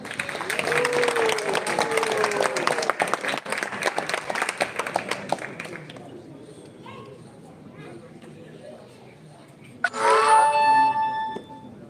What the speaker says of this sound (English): Let's give a big round of applause for Vajaynti Goswami, please